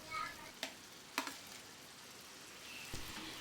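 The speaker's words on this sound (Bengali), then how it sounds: "এবার ভেজে রাখা চিংড়ি মাছগুলো আমরা এর মধ্যে এক এক করে অ্যাড করে দেবো" Fried prawns dropped one by one into hot masala in a pan, giving a faint steady sizzle with a few soft clinks and stirring scrapes.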